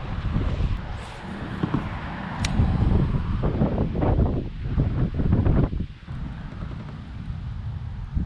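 Strong wind roars and buffets the microphone nonstop on a small boat during coastal bass fishing, a loud, rumbling gusting wash that swells and dips without a break.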